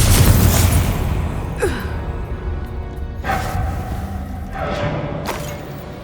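A Confringo fire spell explodes in Hogwarts Legacy, a deep booming blast at the start followed by a couple of softer whooshing bursts over a steady rumbling game backdrop.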